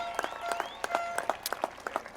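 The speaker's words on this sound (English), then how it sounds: "And students, give yourselves a round of applause." Applause at a high school commencement ceremony, scattered claps rising over a steady crowd wash, fairly close, with a voice briefly over it.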